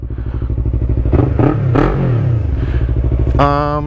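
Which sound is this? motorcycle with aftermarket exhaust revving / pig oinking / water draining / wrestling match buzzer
motorcycle with aftermarket exhaust revving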